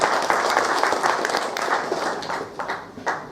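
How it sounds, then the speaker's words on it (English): Audience at a corporate talk breaking into a round of applause, dense steady clapping from a crowd in a hall that gradually thins and fades out. "I think it requires a big round of applause."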